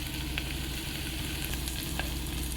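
Sliced onion, dried and green chillies and a sprig of curry leaves fry in groundnut oil in a cooker, a constant dense sizzle and crackle with faint stirring clinks, close and alone.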